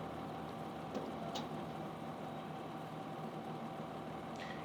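Tractor engine in Farming Simulator 15 running with a steady, faint, low hum that stays even throughout, with a few light clicks on top.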